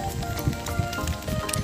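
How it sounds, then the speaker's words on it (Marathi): Rain falling outdoors in a village area near Dapoli, with a steady light patter under scattered knocks and occasional faint voices nearby. "पाऊस पण आलेला आहे"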